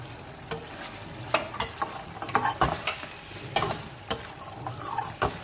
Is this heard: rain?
no